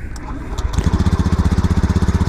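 Honda Beat Premium scooter engine starting: a brief starter whir, then the small engine catches and settles into a rapid, even putter close by, with a voice heard over the start.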